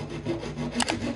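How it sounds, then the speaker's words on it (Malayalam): A round, finished piece of metal hanger is cut by hand for a homemade hydraulic jack, giving close, rough rasping saw strokes in a steady back-and-forth rhythm for a little over a second. "അപ്പോൾ ഇത് കട്ട് ചെയ്തിട്ട് നമുക്ക് ഇതിന്റെ സെന്ററിൽ പോകാം."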